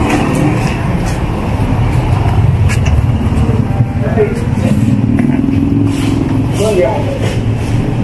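Steady road traffic with cars, motorcycles and buses rumbling continuously on a busy street outside a meat shop, someone talking over the dense engine noise.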